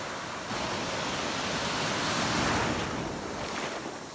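Ocean surf at Phi Phi Island washes in a steady, loud roar of breaking waves with wind across the microphone, no voices.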